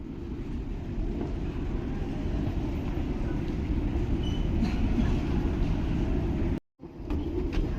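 A metro train rumbles steadily at close range with a low, continuous roar, then cuts out abruptly for a moment before the noise resumes.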